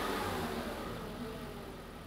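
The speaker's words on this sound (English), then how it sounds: "if you can blip the throttle a couple times there, and you can see how quickly that reacts" A car engine runs loud and close as the throttle is blipped during an air-fuel ratio sensor test, its rough roar easing slightly over two seconds.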